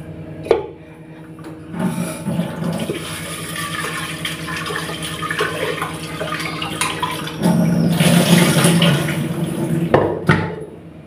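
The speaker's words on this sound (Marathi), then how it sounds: "आपण छानपैकी मस्त मसूरची डाळ 1 वाटी घेतलेली आहे। ते आता छान 2 पाण्याने मी स्वच्छ धुवून घेते" A cup of masoor dal lentils is rinsed under running tap water, a continuous close hiss and splash that swells louder toward the end, with grains rubbing and rattling in the vessel.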